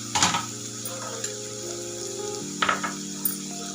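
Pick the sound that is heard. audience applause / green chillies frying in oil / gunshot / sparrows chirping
green chillies frying in oil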